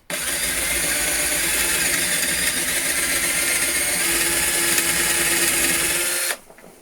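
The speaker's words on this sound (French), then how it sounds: "Maintenant, on vient percer ici." Electric drill boring a hole during a home DIY setup build, a loud continuous whirring drone that runs steadily for about six seconds before stopping abruptly.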